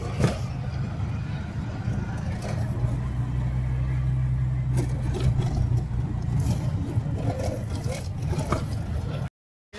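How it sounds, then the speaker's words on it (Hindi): Road traffic at the IIT Bombay gate rolls past as a continuous low engine drone, with a vehicle revving louder in the middle and scattered horn-like bursts and faint voices in the background. "IIT के गेट का ट्रैफिक।"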